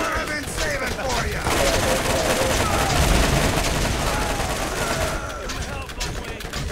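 Sustained gunfire and volleys of shots in a Borderlands firefight, loud and continuous throughout with voices talking over it.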